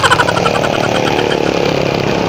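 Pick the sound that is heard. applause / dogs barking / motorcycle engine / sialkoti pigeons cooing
motorcycle engine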